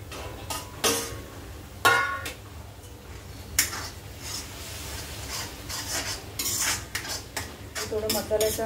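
Jackfruit pieces being sautéed in mustard oil in a pan, with irregular metal scrapes and clinks of a spoon stirring against the pan, soft frying noise between the strokes, close and without talk.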